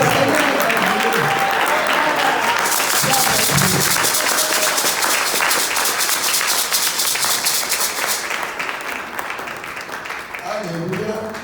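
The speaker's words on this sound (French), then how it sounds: "Tu peux encore acclamer très fort." A church congregation at a French-speaking worship service applauds and cheers loudly, dense sustained clapping mixed with acclaiming voices that carries on for several seconds before easing slightly.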